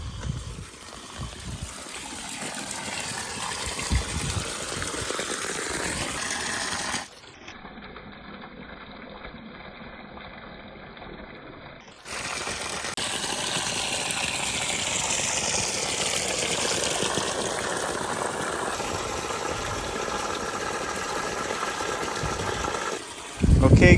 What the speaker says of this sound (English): you can see that is where our sprinkler water is being shot out of the building